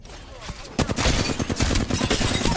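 Gunfire in Apex Legends, rapid automatic shots rattling close and loud after a brief quieter start, dense and continuous with game sounds around it.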